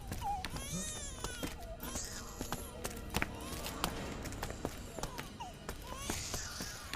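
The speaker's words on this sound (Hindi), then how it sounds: "बच्चे की रोने की आवाज कुएं से आ रही है।" An infant cries in wavering, repeated wails that seem to come from inside a well, heard at a moderate distance among sharp knocks and other background noise, with no clear talk over it.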